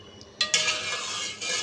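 Milk being poured into a metal cooking pot for custard: a brief clink of metal, then a steady bright pouring rush lasting over a second, close and fairly loud, with no talking.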